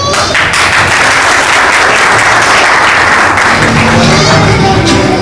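Loud applause from an audience at an anniversary gathering of a social organization in India, a thick, sustained burst of many hands clapping at close range, with voices and crowd noise mixed through it.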